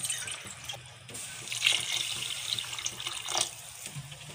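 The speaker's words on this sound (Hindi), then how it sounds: "तो पानी भी मैं 2 गिलास ऐड करूँगी।" Water from a tap or glass poured into a cooking pot for chana dal pulao, a steady splashing trickle in a kitchen with faint background noise.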